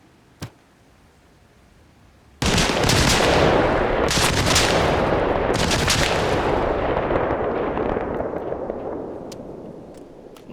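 Sustained suppressive gunfire from AI soldiers in Arma Reforger: a dense, loud barrage of overlapping shots and bursts that starts abruptly and continues throughout, with no talking.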